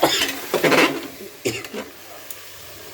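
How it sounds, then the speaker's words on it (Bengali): A spatula stirs a fried rice vegetable mixture in a pan, producing several close, uneven bursts of scraping and light sizzle in the first half, then quieter, sparser scrapes. "এটাকে একটু নাড়াচাড়া করবো 10 মিনিট নাড়াচাড়া করবো"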